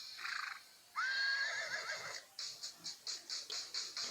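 A horse gives a loud, high whinny that rises and wavers, followed by a quick string of rhythmic snorts or hoof-like clip-clop pulses, close and clear.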